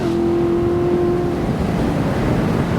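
A Corvette C7 Grand Sport with 460 horsepower roars loudly and steadily under hard acceleration, a droning engine tone fading into a broad rushing roar of engine and wind noise.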